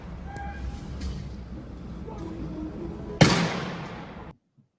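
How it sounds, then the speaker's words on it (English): A single gunshot, loud and abrupt, cracks over muffled outdoor background noise during a struggle, and the sound then cuts off into silence. "A gunshot is heard"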